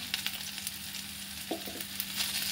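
Ground spices with Kashmiri chili powder and turmeric fry in a pan, a continuous bright sizzling hiss with occasional soft stirring clicks and scrapes.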